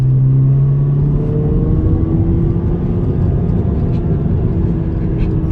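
A 2019 Honda Civic Sport with its muffler deleted drones steadily from inside the cabin, a loud low exhaust hum with a brief higher tone early on and slowly shifting pitch, no talk over it.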